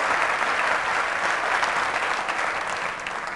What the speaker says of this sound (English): I don't know if you were applauding me or the piano.